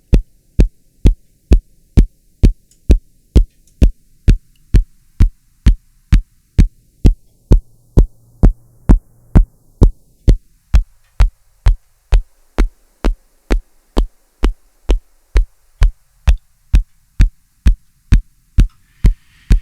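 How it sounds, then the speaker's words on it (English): A deep, booming kick drum tone shaped by a notch filter plugin repeats at a steady, even pace, each hit short and punchy, with nothing else playing. "you can hear we're getting some interesting and useful kick drum tones"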